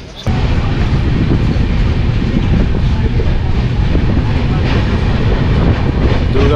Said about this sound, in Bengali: দুর্গাপুর থেকেও ট্রেন আমাদের ছেড়ে দিল প্ল্যাটফর্ম নাম্বার 4 দিয়ে।